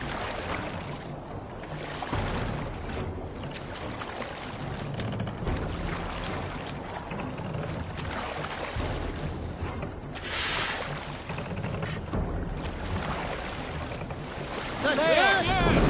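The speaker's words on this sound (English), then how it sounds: "waves!" Ocean waves and surf wash steadily around a boat, mixed with gusting wind buffeting the microphone in a continuous rough roar, while voices call out over it.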